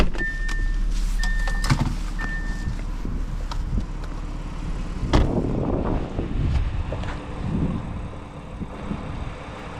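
A 2012 Audi A7 3.0T Quattro engine cranks and fires up partway through, settling into a steady rumble after a few soft electronic chimes and some shuffling.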